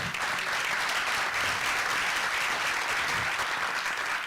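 A crowd at a town hall meeting on Medicaid applauds steadily, with even, sustained clapping and a few scattered cheers and no speech over it.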